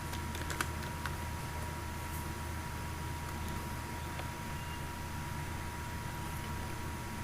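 Keys tapping on a computer keyboard while an HTML list heading is entered, a few sparse, faint clicks over a steady low hum and background hiss.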